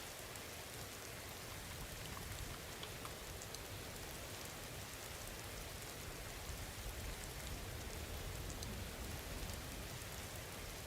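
Steady, even rainfall in the video game Skyrim, a dense hiss of drops hitting surfaces that continues unbroken throughout, with no voices.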